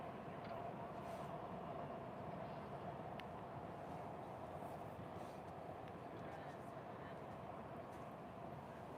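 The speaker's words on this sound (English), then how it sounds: "there goes the train across that bridge" A train rumbles steadily across a bridge over the Rhine at Cologne, heard from a cruise ship on the river as a continuous broadband roar with faint clatter, fairly distant and unbroken throughout.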